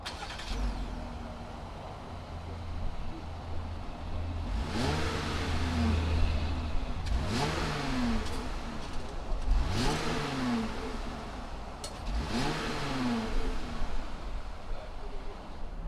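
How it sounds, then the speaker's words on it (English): A 2019 Jeep Wrangler Sport's V6 engine idles then revs repeatedly, several rising and falling roars spaced a couple of seconds apart, fairly close. "Why don't we go ahead and fire it up and see what it sounds like."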